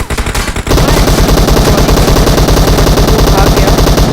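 Very loud automatic gunfire in the video game PUBG Mobile, a few scattered shots and then a long, fast, steady burst of rapid fire that fills the rest of the clip at close range.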